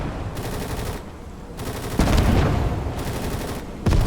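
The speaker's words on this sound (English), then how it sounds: "I'm glad my machine gunner's working overtime." Bursts of machine gun fire from the muddy war game Gates of Hell rattle loudly in several separate volleys, with short pauses between them and a heavier burst in the middle.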